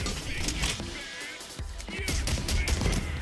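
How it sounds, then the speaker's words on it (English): Rocket launcher fire and explosions in the video game Payday 3, a dense run of blasts and gunfire bursts over constant game noise and music, loud and close throughout. "the rocket will only deal damage if it hits something, as you can see"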